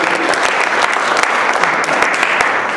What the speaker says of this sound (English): So could you please give a round of applause for being number three District 8.